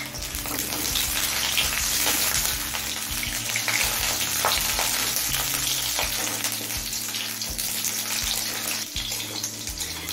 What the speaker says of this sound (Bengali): এবার এই তেলে বিটটা ভেজে নেব।